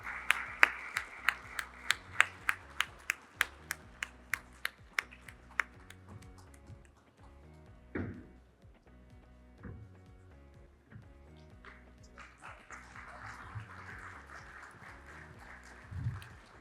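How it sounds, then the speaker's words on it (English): Audience clapping at a medical oration lecture in Asia, a series of sharp, evenly spaced claps ringing out in a hall and then fading into low murmur and scattered sounds. "a thunderous round of applause one more time"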